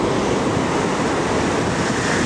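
Ocean waves crash and wash on a beach during a beach day, a steady loud roar of surf with wind noise pressing on the microphone throughout.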